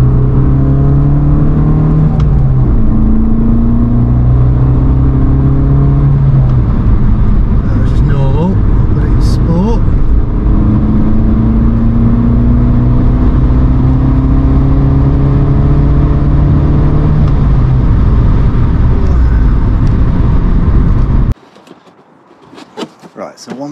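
An Abarth 500 esseesse runs under way, its engine droning loudly and close from inside the cabin, rising in pitch through several gear changes before it suddenly cuts off near the end.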